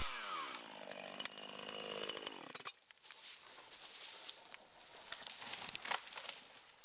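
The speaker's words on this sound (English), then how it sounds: "Angle the saw so that the tip of the bar just undercuts the existing back cut and does not undercut the felling bar or wedge." Chainsaw felling a tree with a split-level cut: a close engine revs with a falling pitch, then drops into a rough, loud, continuous cutting roar through the wood.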